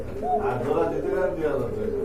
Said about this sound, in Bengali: ওই যে দেখেন কি সুন্দর ডাকে কবুতর গুলো